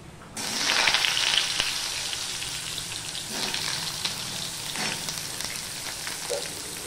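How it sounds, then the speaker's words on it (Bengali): Cut, washed potatoes drop into hot oil with a sudden burst of loud sizzling that settles into a steady frying hiss, with a few stirring scrapes along the way. "ফোড়ন হয়ে গেলে আমি দিয়ে দিচ্ছি এই কেটে রাখা ধুয়ে রাখা আলুগুলো।"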